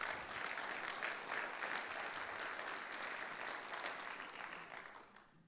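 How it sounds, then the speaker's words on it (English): Sustained audience applause at a business and economic outlook conference, a steady wash of many hands clapping close and loud for several seconds before tapering off at the end, with no talking over it. "He deserves another round of applause"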